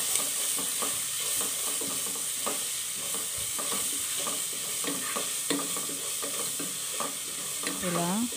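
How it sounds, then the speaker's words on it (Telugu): Onions frying in a pan with turmeric and salt as bottled gourd fry is cooked, a steady close sizzle with scraping stir strokes throughout and no talking. "వేసుకొని ఆనియన్స్ని బాగా వేయించుకోవాలి"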